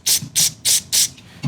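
An automatic transmission shift solenoid is switched on and off repeatedly on the bench, giving four crisp, evenly spaced clicking bursts, close and fairly loud, with quiet gaps between them.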